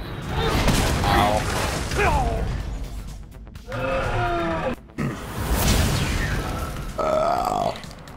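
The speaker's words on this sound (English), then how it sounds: "Chris, less burping and more paying attention to prompts." Someone lets out several long, deep, gurgling burps in a row, loud and close, with pauses between them and voices talking around them.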